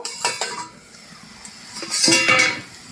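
A plate used as a lid is lifted off a pan of simmering pumpkin leaves, giving a couple of light clinks and a louder ceramic-on-metal clatter near the end, close up with no talk.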